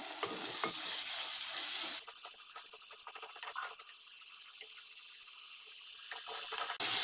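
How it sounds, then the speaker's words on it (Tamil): Onion, ginger-garlic paste and a large chopped tomato frying in a pan for Sunday-special chicken curry (koli kulambu), a sizzle with scraping stirs, louder briefly at the start and end, no talking. "இப்போது பெரிய சைஸ் தக்காளி ஒன்று பிணைஞ்சு வச்சுருந்ததை சேர்த்திடுறேன்."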